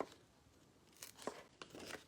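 Tape is peeled and torn off a plate in a few short, quiet ripping and crinkling bursts near the microphone, separated by brief pauses.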